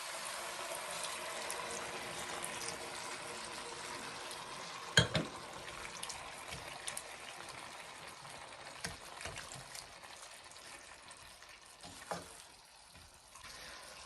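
Red wine bubbling and simmering in a cooking pan, a soft continuous sizzle with faint trickling and occasional clinks and stirring knocks, fairly quiet and close, no voices.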